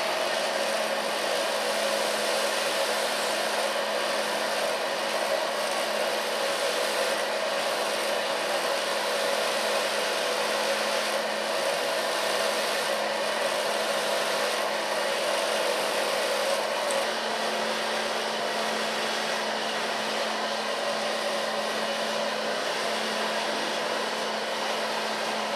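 A hair dryer runs steadily for the whole stretch while blow-drying ultra-short hair at a salon, a close, constant whirring roar with no pauses and no one speaking.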